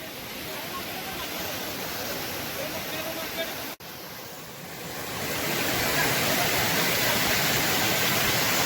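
Donawade waterfall pours with a dense, continuous roar that briefly dips and then swells louder, heard up close.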